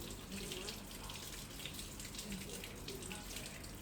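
Tap water runs steadily into a sink for hand washing, a faint continuous splashing hiss with no distinct breaks.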